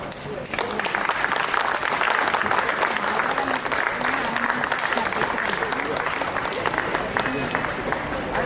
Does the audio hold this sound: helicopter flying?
no